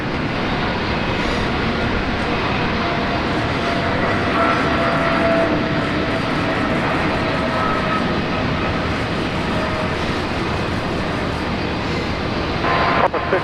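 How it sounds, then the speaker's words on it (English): An Air New Zealand Boeing 777 departs from Brisbane Airport. A broad, steady roar of jet engines holds for the whole stretch, loud and continuous, with faint radio chatter mixed in. "Air New Zealand 777 All Blacks departing now."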